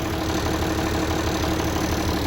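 An old 766 tractor engine that powers a mixer wagon runs at a steady idle, a continuous low rumble close by with no talking.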